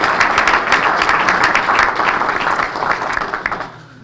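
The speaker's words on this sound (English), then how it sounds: "let's give a round of applause for Fantasia" Audience applause at a community economic development commission breakfast, dense steady clapping from a roomful of people that holds strong for about three seconds and then thins and fades out near the end.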